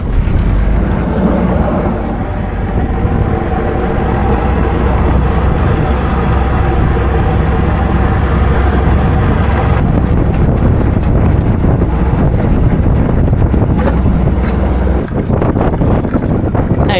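Strong wind buffets the microphone in a steady, loud roar, with water rushing around a small sailboat moving at about two and a half knots throughout.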